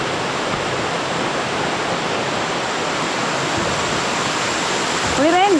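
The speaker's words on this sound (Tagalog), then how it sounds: "Ayan, may falls na." A waterfall near Pagsanjan, Laguna, gives off a loud, continuous rushing roar. A brief voice comes in at the very end.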